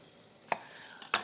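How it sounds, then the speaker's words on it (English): A knife chops through an onion, finely dicing it on a cutting board: two crisp, close knife strikes about half a second apart with a light scrape between them, no voices. "Really close together on those slices because we want a very finely diced onion"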